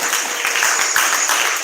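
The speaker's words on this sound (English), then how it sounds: "Give Vosa a round of applause, y'all." Audience in a town hall applauding, dense steady clapping from many hands filling the whole short stretch.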